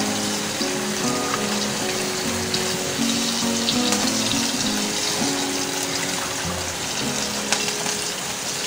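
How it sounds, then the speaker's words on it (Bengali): Water is poured into a pan of frying bhetki fish curry, giving a loud, steady sizzling hiss that runs the whole time over a faint tonal hum. "আমি এই পর্যায়ে ঝোলের পানি দিয়ে দিব।"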